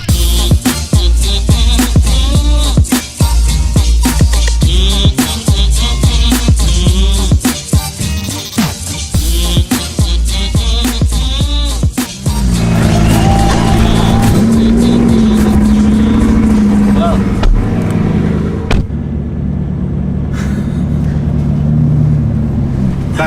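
A Bugatti Chiron in race mode, first with a loud rapid series of engine bursts and revs, then settling into a deep sustained drone as it cruises, heard close from inside the car.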